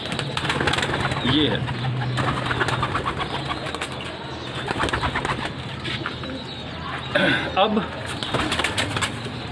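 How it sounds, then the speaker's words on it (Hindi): A red-eyed pigeon, a Prince Kamgar type, cooing in soft repeated low calls with bursts of wing flapping, heard close alongside someone talking. "एक ज़बरदस्त किस्म की लाल आंख का कबूतर है"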